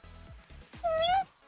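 A cat named Lando gives a single drawn-out meow with a slight rising bend, close and clear, following a few softer short chirps in a quiet room.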